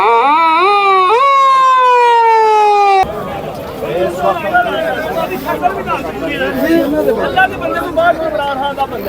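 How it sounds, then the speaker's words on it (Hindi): Ambulance stuck in a dense crowd of political protesters on a street with containers, its loud wailing siren sounding close for about three seconds before giving way to noisy crowd chatter and many overlapping voices. "इस वक्त ये एम्बुलेंस को रास्ता दिया जा रहा है।"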